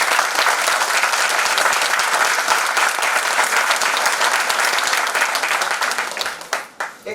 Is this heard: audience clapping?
yes